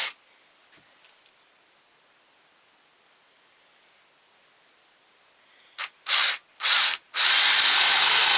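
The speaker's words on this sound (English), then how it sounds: "We want to drill our eyes out now." A power drill bores eye holes into a hand-carved wooden ventriloquist dummy head. After near silence, a few short loud bursts of whirring and chewing through wood build into one sustained, harsh drilling run close by.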